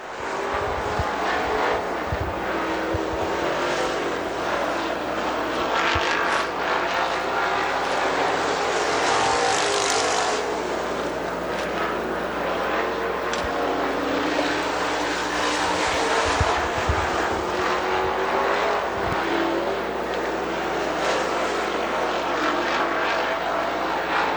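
Econo Bomber stock cars race around the Dixie Speedway dirt oval, their engines roaring loud and steady as the field passes, with rising and falling swells of engine noise throughout.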